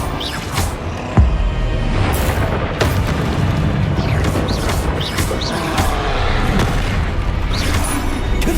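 Fiery Confringo spell blasts in Hogwarts Legacy combat, a dense run of loud booming explosions with sharp transients and crackling debris throughout, layered over continuous game noise.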